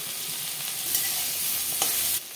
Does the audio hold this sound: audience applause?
no